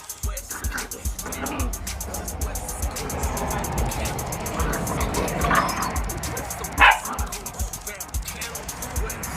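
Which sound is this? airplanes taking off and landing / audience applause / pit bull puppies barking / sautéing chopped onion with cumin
pit bull puppies barking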